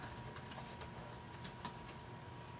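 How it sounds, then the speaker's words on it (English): Typing on a computer keyboard, quiet and close, with irregular soft key clicks in quick bursts over a faint background hum. "I'm going to finish typing before I start talking."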